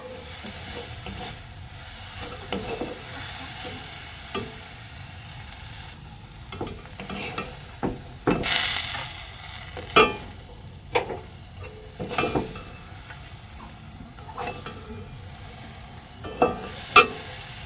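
Melted sugar is stirred in a pan while making palm pitha, giving soft, irregular scraping and sizzling strokes with a few sharper clinks, close by and fairly quiet, with no talking.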